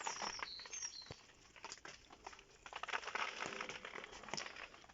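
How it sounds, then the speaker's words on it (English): Rain running off a polytunnel roof, a busy, crackly patter of drips and splashes that carries steadily through the whole stretch at close range, with no talk over it. "The rain's running off the roof on the polytunnel."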